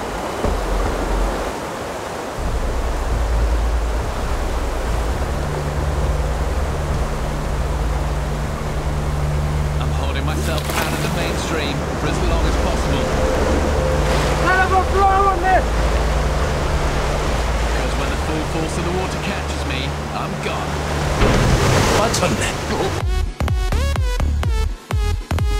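Very fast-flowing river water rushing in a loud, continuous broadband roar close by, holding steady throughout with some splashing and clattering toward the end.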